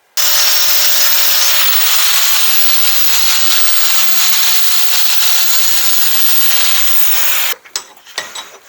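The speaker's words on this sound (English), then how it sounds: "So I'm just cleaning off the rust on the top piece" A power tool scours rust off a steel panel, a loud steady abrasive whir with a faint tonal hum, cutting out abruptly near the end and followed by a few clanks.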